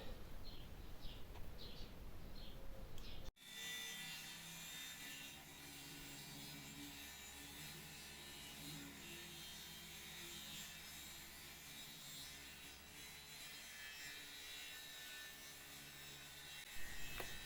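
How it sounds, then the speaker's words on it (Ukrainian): A neighbour's circular saw or angle grinder runs steadily in the distance for a long stretch, a constant whine beneath outdoor garden ambience, with birds chirping briefly at the start. "Бачите, працює його циркулярка чи болгарка."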